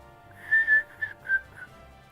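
A short whistled phrase of several quick, clear notes with small gaps between them, heard alone against a quiet background.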